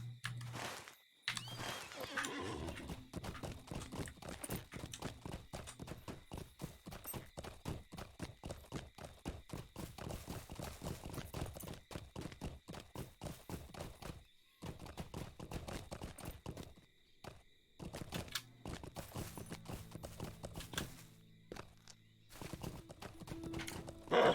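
Hooves clip-clop steadily as a mount trots along in Lord of the Rings Online, a fast regular rhythm of hoofbeats with a whinny early on and brief pauses between runs.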